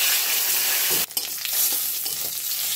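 Cumin, dry red chilli, bay leaf and garam masala dropped into hot oil after fried potatoes, a loud continuous hissing sizzle with a brief drop and clatter as the spices go in, then sputtering on.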